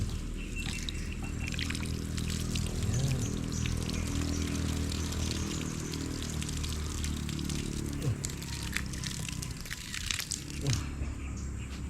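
Water poured out over soil while clearing and tending a vegetable garden plot, a steady trickling splash that runs almost the whole time at moderate loudness with some faint crunching alongside.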